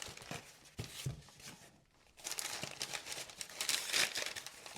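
Paper crinkles and rustles in bursts as it is pulled from around a small fixed-blade knife during unboxing, with a brief pause midway before the louder, busier crinkling resumes close to the listener.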